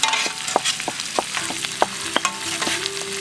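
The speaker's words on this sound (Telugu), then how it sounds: "కొంచెం ఎర్రగా ఫ్రై చేసుకోండి వీటిని, ఉల్లిపాయలని." Onions for crab curry fry in a pan with a soft steady sizzle, punctuated by a series of close spatula scrapes and taps as they are stirred, no voices.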